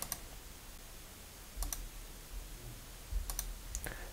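Mouse clicks from a computer, sounding as a few sharp, faint double clicks spaced a second or two apart over a quiet room hum, with no talking.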